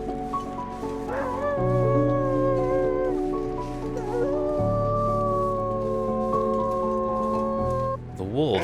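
Wolves in the survival video game The Long Dark, with drawn-out, wavering howls sliding over a sustained musical backdrop, fairly loud and continuous for most of the stretch.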